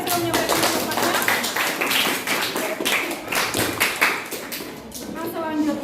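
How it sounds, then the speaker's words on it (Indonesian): Students clap together in a classroom, a moderately loud burst of uneven claps and taps with some voices mixed in beneath. "Tepuk tangan untuk teman-teman kita yang sudah menyampaikan pendapatnya."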